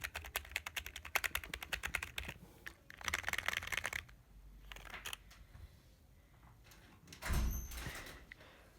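Rapid clattering keystrokes on a new Rampage Titan K9 keyboard come in quick bursts, pause, then resume, close and clear, ending with a louder thump or shuffle.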